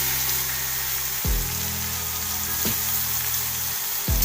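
Onions frying with curry leaves in hot oil, a loud steady sizzle with a few periodic scraping stirs in the pan.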